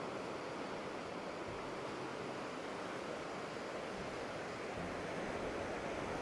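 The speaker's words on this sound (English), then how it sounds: "And the waves crashing in." Ocean waves crash steadily on Bang Niang Beach in Khao Lak, Thailand, a continuous close roar of surf mixed with light breeze and no voices.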